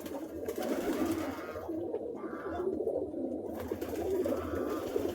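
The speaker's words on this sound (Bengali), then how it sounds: "অনেক বড় কবুতর ঘর, অনেক জাতের এখানে কবুতর আছে" Pigeons of many breeds coo softly in a large pigeon loft, low repeated calls rising over a constant background hum.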